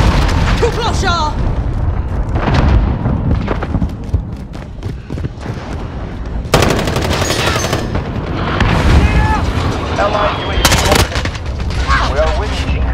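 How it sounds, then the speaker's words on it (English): Cruise missile explosions on the Khandor Hideout map during a Modern Warfare Team Deathmatch match on Xbox One: heavy booming blasts mixed with rapid gunfire, loud and dense throughout, with game voice callouts over the chaos. "Enemy cruise missile."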